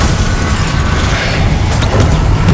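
A Confringo blasting spell explodes in the Hogwarts Legacy video game, giving a loud, close, rumbling boom with crackling debris that fills the whole short moment.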